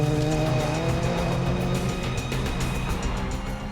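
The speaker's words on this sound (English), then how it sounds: "These rally cars are competing in the Tour of Cumbria." Rally cars compete in the Tour of Cumbria in the hills of northwest England, an engine revving hard and loud up close with tire squeal and skidding, the roar continuous with rapid pulsing gear changes.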